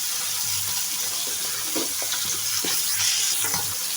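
Tangra fish frying in oil for a cabbage dish, with steady close sizzling and several scraping stir strokes spaced through the span; no talking.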